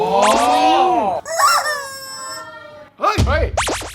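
A chicken-shaped squeeze toy lets out loud squawking, crowing-like honks, three bursts separated by short pauses, with a harmonic, bird-like quality.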